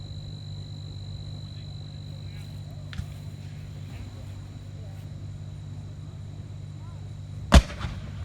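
A cannon booms once at a Civil War re-enactment battle. The single sharp, loud report stands out against quiet outdoor background noise, and a fainter thump is heard earlier.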